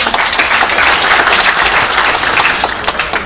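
Dense applause from an audience at a job-creation policy forum, steady and fairly loud across a few seconds with no speech over it.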